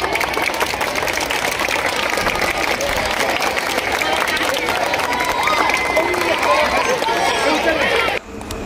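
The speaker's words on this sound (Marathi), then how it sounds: "टाळ्या वाजवा" Students and audience at a school's annual sports festival in Kalyan clap together in a dense, steady burst of applause with crowd noise, continuous and fairly loud before cutting off abruptly near the end.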